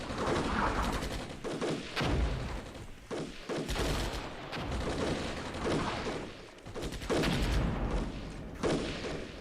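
Mortar and gunfire in the war game Armored Brigade, a dense barrage of sharp blasts and crackling shots with short gaps, loud and close, rolling on without pause and with no voices over it.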